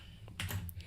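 A short burst of computer keyboard typing, a few quick key clicks close up and fairly quiet, with no talk.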